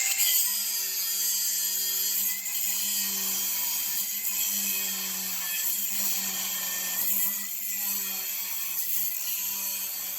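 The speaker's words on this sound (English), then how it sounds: "we're just going to use a good old-fashioned grinder" An angle grinder cuts through hog panel wire with a continuous high-pitched whine that holds steady and close, dipping slightly a few times as it bites into the metal.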